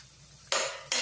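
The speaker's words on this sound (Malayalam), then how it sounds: "ഇനി ഇതിനെ ഒന്ന് നമുക്ക് വഴറ്റിയെടുക്കാം" Chilli masala for an egg masala is stirred in a hot pan, with two sudden bursts of loud sizzling as the spoon moves the mixture, and no voices.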